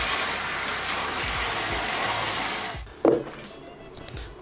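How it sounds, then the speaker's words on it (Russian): Tap water runs steadily over eggplants being rinsed in a kitchen sink, a continuous gush that stops abruptly, followed by a short clatter and quieter handling sounds. "Пойдем их промоем под проточной водой и обсушим."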